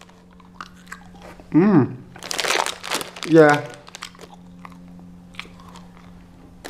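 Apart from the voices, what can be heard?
biting and chewing Danish candy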